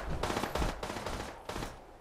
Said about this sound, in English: Is that friendly gunfire?